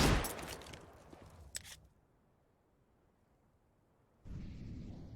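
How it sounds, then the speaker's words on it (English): Rapid Desert Eagle gunfire in Counter-Strike, a dense flurry of sharp shots over the first two seconds, then near silence before a steady hiss of noise returns. "Deagle backed up for Robin, spamming through. Bullets flying."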